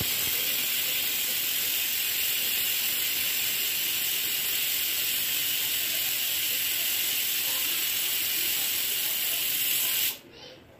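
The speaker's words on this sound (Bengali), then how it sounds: "একটা সিটি পড়লো, আরেকটা সিটি পড়বে, আরেকটা সিটি পড়বে এক্ষুনি।" A pressure cooker on an induction cooktop, cooking paneer and potato curry, lets out a long, loud, continuous steam whistle that holds steady for about ten seconds before cutting off abruptly.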